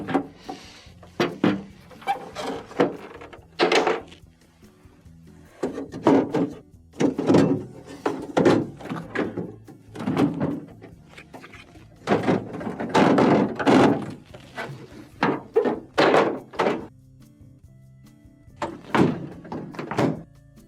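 GE refrigerator door bins are lifted out, producing a series of irregular plastic thunks, knocks and rattles close by, separated by brief quiet pauses.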